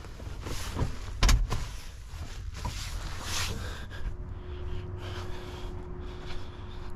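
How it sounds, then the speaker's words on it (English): The door locks of a 1961 Imperial car engage with a sharp mechanical clunk near the start, followed by a low steady hum and faint rustling, close by and with no speech. "Yay, the vehicle locks now."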